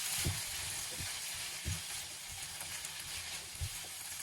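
Frozen carrot, cauliflower, broccoli and peas fry in a pan for vegetable egg fried rice, giving a continuous soft sizzle with faint stirring scrapes and light knocks, quiet and steady with no talking.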